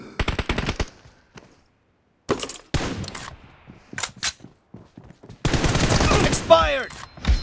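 Rapid machine gun bursts from a mobile team-deathmatch shooter game, loud and close, firing in short rattling volleys separated by pauses, with a longer sustained burst near the end.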